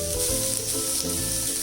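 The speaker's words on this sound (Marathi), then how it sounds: "लाल तिखट टाकल्यानंतर ते परतून घेतल्यावरती मेथी टाका." Fenugreek leaves go into a pan already sizzling with red chili powder for a mung dal and methi bhaji, giving a short, steady, close frying hiss with no voices.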